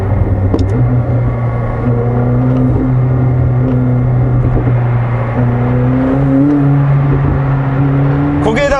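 A McLaren 765LT exhaust rumbles steadily with rising engine revs and a few sharp pops, loud and close, under continuous speech.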